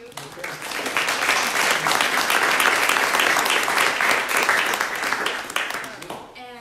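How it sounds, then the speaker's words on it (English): An audience breaks into a round of applause, clapping building quickly, holding steady for several seconds, then tapering off. "I'd first like to give you a mini round of applause before the big round of applause"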